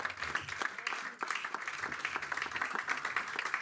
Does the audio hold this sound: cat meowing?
no